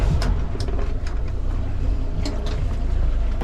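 A sailboat's engine running at sea, a steady low rumble with wind and water noise over it and occasional brief splashes or knocks.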